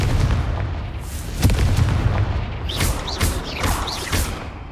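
The Confringo spell in Hogwarts Legacy sets off a series of booming blasts with deep rumbling thuds, followed by several sharper whooshing bursts in quick succession.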